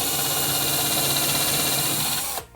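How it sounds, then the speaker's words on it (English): A power drill bores into pallet wood for a coffee table, a loud close continuous whirring that stops abruptly at the end, with no talk. "I'm just going to drill and put a screw in there"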